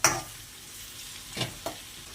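Two large cut onions and tomatoes fry in a pan under a low, steady sizzle, with a sharp stirring scrape at the start and two more spoon strokes later.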